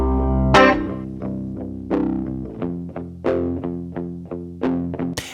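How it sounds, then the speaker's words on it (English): An electric guitar is played palm-muted through a lightly driven Tumnus overdrive pedal, recorded direct with no amp simulation. A loud, close series of short, distorted chugging notes and chords in an uneven rhythm plays alone. "I also am layering over a palm mute, so it's just basically going through that same exact chain, but I'm engaging that tumnus"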